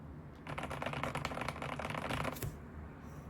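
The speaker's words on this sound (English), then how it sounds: "Does your Razer keyboard sound this good?" Rapid, dense clacking of keys on a modded Razer mechanical keyboard, a steady burst of typing lasting a few seconds, close and clear with no talking.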